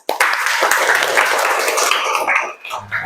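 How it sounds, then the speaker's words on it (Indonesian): Schoolchildren in a fourth-grade primary school classroom clap together in a dense, steady burst of applause that fills the room for about two and a half seconds before thinning out at the end. "Tepuk tangan dulu."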